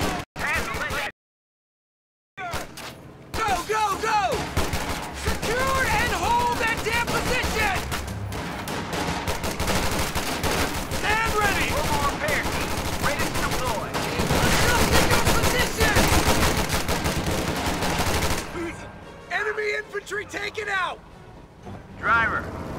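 Gunfire from Company of Heroes 2 keeps coming in dense, crackling bursts of rifle and machine-gun shots under overlapping voices and battle noise. A short silent gap comes near the start, and things thin out toward the end.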